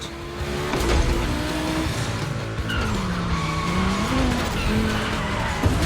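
An Audi Quattro and a Porsche 911 race in The Crew Motorfest video game: loud engines rise and fall in pitch through gear changes, and tires squeal through the corners, continuous throughout.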